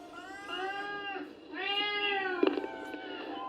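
A house cat meows twice up close, long drawn-out harmonic cries with a short gap between them, followed by a brief rustle and a few soft clicks.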